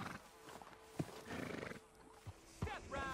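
A horse in the Red Dead Redemption 2 video game snorts and clops its hooves in a quiet town setting, giving short, scattered snorts and a few soft hoofbeats at moderate distance.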